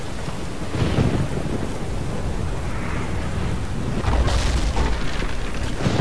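Heavy rain and rolling thunder during a storm in the medieval combat game Chivalry: Medieval Warfare, with two deep booming swells of thunder rising out of the steady downpour.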